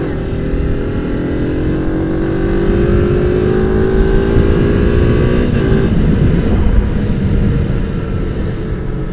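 A Kawasaki ZZR 250 motorcycle on a test ride gives a loud, steady engine drone that rises in pitch as it revs up and shifts through gears, heard up close with wind noise and no talk.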